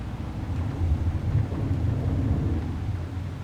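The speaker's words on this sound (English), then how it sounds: "so I do believe that's the rain" Rain and rolling thunder in Euro Truck Simulator 2, a deep continuous low rumble with a steady wash of rain, fairly loud and with no voices over it.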